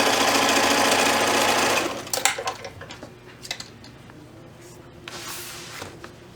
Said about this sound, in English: I'm going to just stitch that open side together